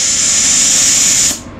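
Compressed air from an air compressor rushes through a BestArc BTC500DP plasma cutter in a loud, steady hiss that cuts off abruptly near the end, leaving a faint residual rush.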